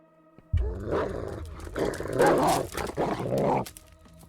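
A dog in the horror video game Layers of Fear growls and snarls in several rough, rolling bursts lasting a few seconds, loud and close, then stops abruptly.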